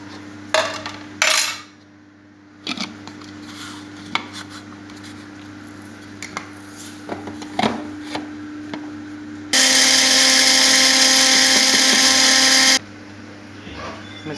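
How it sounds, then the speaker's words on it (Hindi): Spices for chicken achari are ground. Scattered clinks and knocks of kitchen utensils come first, then a loud, steady whirring burst of grinding lasts about three seconds before stopping abruptly. "इनको हम पीस लेते हैं।"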